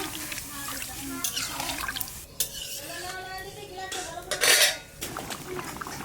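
Water poured into a pan of fried mixed vegetables on the stove, a splashing, running stream that swells midway, mixed with clinks of utensils against the pan.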